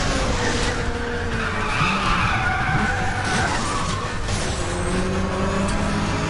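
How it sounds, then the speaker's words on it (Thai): A car in the racing video game Need for Speed: The Run is driven fast, with a continuous loud engine roar and tire skidding throughout, and no talk over it. "ขับไปเรื่อยๆนะตอนนี้อยู่ความเร็วเกียร์4นะ110กว่า"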